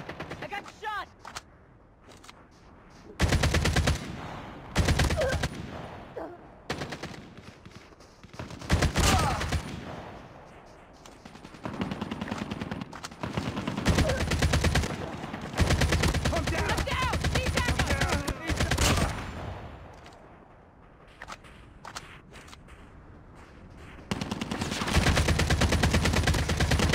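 Call of Duty Mobile gunfire with an ASM10 rifle: loud bursts of automatic fire and single shots come in clusters separated by short lulls, with game voice callouts in between.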